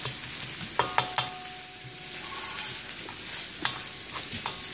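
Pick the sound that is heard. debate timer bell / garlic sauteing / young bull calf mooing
garlic sauteing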